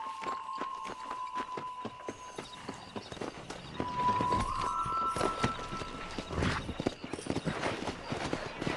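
Horse hooves clip-clopping in the Red Dead Redemption video game, a steady rhythmic beat of a ridden horse with a sustained tone and ambient game sound layered over it.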